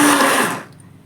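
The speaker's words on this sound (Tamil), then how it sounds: "பிளெண்டரில் நம்ம முட்டையை நல்லா நுரப்பொங்க சுற்றிக்கலாம்." A blender whirring as it whips beaten eggs until frothy, loud and steady for about half a second before cutting off quickly.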